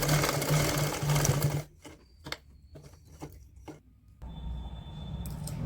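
Sewing machine double-stitching a seam on a woollen baby pajama, a fast close whirring run that stops, then a few short stuttering stitch bursts and a quieter resumed hum.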